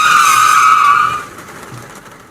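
A car brakes hard and skids, a loud sustained tire squeal that holds for about a second and then cuts off, leaving a faint low rumble.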